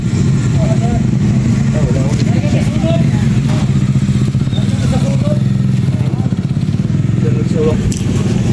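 A motorcycle running during a defensive riding exercise, a loud steady engine drone throughout, close by, with people talking over it.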